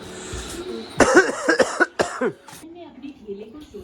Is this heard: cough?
yes